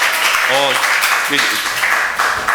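Steady clapping from a crowd fills the room after a Sunday school presentation, with a couple of voices briefly calling out over the applause.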